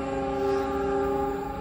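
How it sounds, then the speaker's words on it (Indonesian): Papandayan passenger train KA 129, Garut to Jakarta Gambir, rumbling past in Indonesia with a steady, loud drone and sustained tonal hum throughout, no voices. "kereta yang melintas itu kereta api Papandayan KA 129 dari Garut tujuan akhir Jakarta Gambir."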